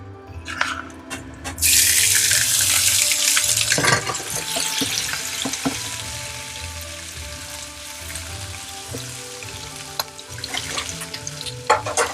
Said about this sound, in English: I'm going to drop in the pork belly.